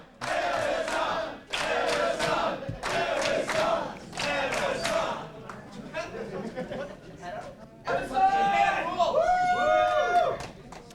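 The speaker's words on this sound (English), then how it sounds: "Crowd get behind him" A wrestling crowd at a CHIKARA tag match roars and chants in rhythmic bursts for Ebessan, loud and sustained, with shouting voices and whistles rising near the end.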